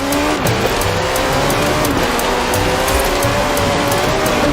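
A Ford RS200 rally car with a 1.8-litre turbocharged Cosworth BDT engine and all-wheel drive, driven in Forza Horizon 4, revs steadily with tire noise, sustained and close throughout.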